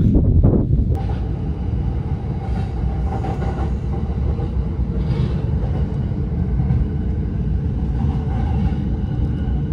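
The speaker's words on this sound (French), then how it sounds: "Il y a beaucoup de vent." Strong wind buffeting the microphone in a steady broadband roar, with the rumble of a train on the rails beneath it throughout.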